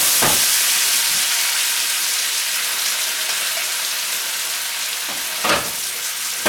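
Vegetables and lamb crackle and sizzle in a hot pan, a loud, dense frying hiss close by, with a few sharper bursts of spitting and stirring scrapes along the way.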